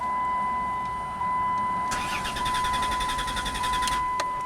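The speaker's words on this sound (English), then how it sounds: "Uh-oh, now we gotta crank no start" A Dodge Caravan's starter cranks the engine in a rapid, even chatter for about two seconds without the engine catching, heard close under a steady electronic tone.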